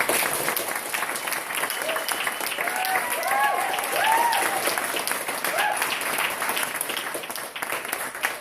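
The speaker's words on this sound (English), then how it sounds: "give them a big clap, please" Steady, full applause from an audience at a children's stage school show, dense clapping sustained throughout with faint cheers and voices mixed in.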